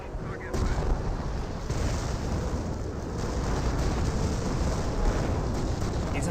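A burst of artillery barrage fire from the real-time strategy game Company of Heroes, a dense rumble of booms and crackling impacts that runs through the whole stretch at moderate loudness.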